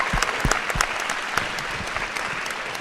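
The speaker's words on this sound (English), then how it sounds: "Guys, if we could have one more round of applause for these 10 student athletes" Crowd applause for ten student athletes at a high school national signing day ceremony, a steady wash of clapping from many hands with a few sharper nearby claps, no voices over it.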